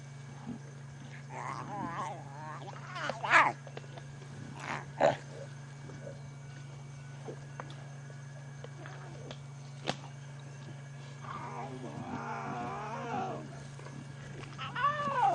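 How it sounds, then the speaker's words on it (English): Lion cubs on a safari drive make small, high, whining and mewing calls in short bursts, some moderately close, over a steady low vehicle hum with quiet stretches between. "And the wonderful thing about lion cubs, they are very talkative"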